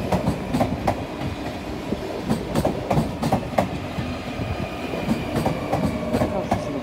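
An SLT train pulling into Rotterdam Centraal station, with a steady rumble and a rhythmic clickety-clack of wheels over rail joints, heard fairly close and loud with no talk.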